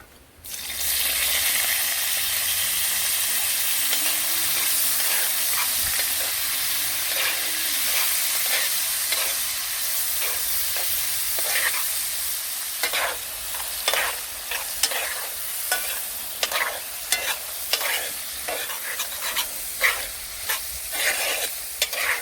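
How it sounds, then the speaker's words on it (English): Oil sizzles in a pot over an outdoor wood fire in the Jamaican countryside, a loud steady hiss that turns into sharper crackles and pops in the latter half, with no talking. "we just threw the oil in the pot and look at that already"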